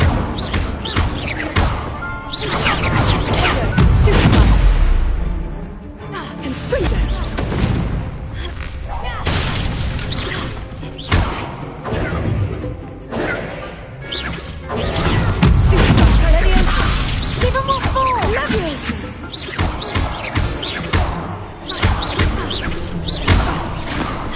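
Magical Incendio fire spell cast in a Harry Potter video game, loud bursting blasts and crashing booms in heavy waves with brief lulls, mixed with game voices.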